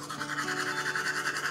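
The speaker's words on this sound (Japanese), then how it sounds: "そしたらスキンケアはおしまいで、歯を磨きます。" Teeth are brushed with a Premium Care toothbrush, giving a steady, rapid, close-up scrubbing in a continuous rhythmic back-and-forth with no talking.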